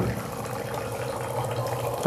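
Water runs steadily from a Kent RO water purifier tap into a glass, a continuous close-up splashing stream that holds even throughout without any voices.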